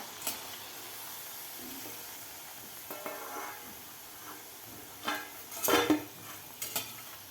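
Colocasia leaf wadi shallow-frying in oil until golden, with a soft steady sizzle, scattered utensil clinks and a cluster of louder pan and spatula knocks near the end, fairly quiet overall and without talk.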